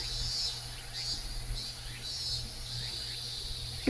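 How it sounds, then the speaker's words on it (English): Higurashi cicadas in the Katawa Shoujo video game, faint repeating high-pitched chirping phrases in a steady rhythm over a low background hum. "The cicadas!"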